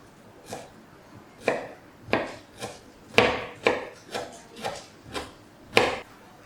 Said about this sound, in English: I prefer to julienne it